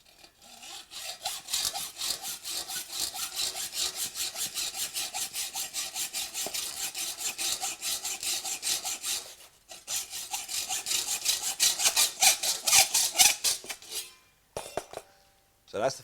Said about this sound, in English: Using a hacksaw,